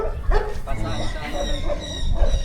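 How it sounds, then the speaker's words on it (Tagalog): Several dogs bark and yip in overlapping bursts close by, with people talking over the noise. "Doon ang daming aso."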